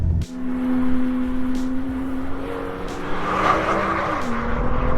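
A BMW M2 sports car engine drones steadily on a race track, its pitch holding and shifting as it accelerates, with faint tire noise.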